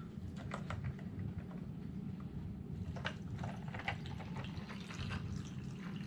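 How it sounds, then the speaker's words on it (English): Water poured through a funnel into the narrow reservoir of an Arctic Air evaporative cooler, a steady close-up splashing and trickling stream that runs continuously without pause. "Now I'm going to put some water in, and we'll see how that works."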